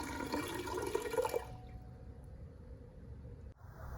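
Symbolic rainwater poured into a church's shared water vessel, a splashing pour that stops abruptly partway through, leaving a quiet room with a faint knock near the end.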